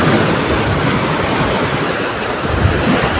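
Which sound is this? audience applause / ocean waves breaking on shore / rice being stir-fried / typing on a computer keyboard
ocean waves breaking on shore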